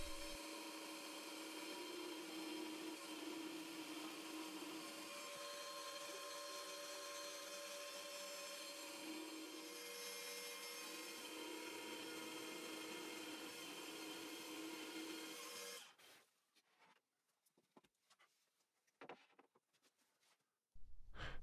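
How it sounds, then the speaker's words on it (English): A power drill bores holes for cam lock fittings in a desk board, a steady loud whirring drone running unbroken for about sixteen seconds before cutting out, followed by a few quieter clicks and handling knocks. "And then I drill all the holes for the cam lock fittings."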